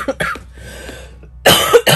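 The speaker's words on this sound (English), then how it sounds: "a cough that I'm dealing with" Repeated allergy-driven coughs, a couple of short sharp coughs, a quiet pause, then a louder burst of harsh coughing, close and with no talking.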